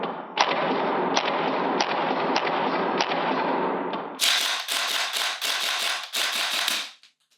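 A VFC Colt M16A1 gas blowback airsoft rifle fires a steady string of loud, sharp cracks over a constant hiss. A faster, brighter burst of shots follows, then it stops abruptly.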